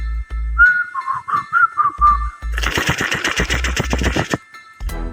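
A melodic whistled tune, a few wavering notes up close, followed by a burst of rapid rattling, clattering noise.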